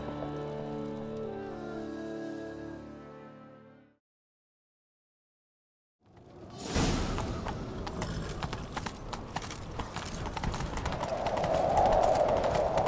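A horse gallops in The Witcher 3: Wild Hunt, a fast, steady clip-clop after a stretch of music and a brief silence, loud and close, growing busier toward the end.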